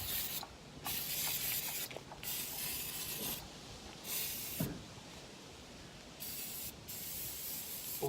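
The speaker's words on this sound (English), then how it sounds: "So, brake cleaner would be nice right now," Brake cleaner sprayed from an aerosol can onto the rear brake parts of a 2012 Kia Optima, a steady close hiss in several long bursts with brief pauses between them, no voices.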